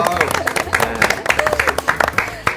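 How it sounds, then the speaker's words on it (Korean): A small studio audience on a book talk show gives a short round of applause, scattered distinct claps close by, with a voice speaking over them. "박수 한번 감사합니다"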